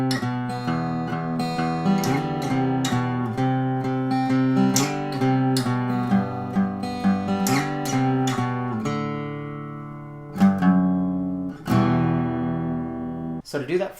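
Guitar playing the intro of a song, a steady picked riff with slides and ringing notes, close and clear, ending on a few sustained strums.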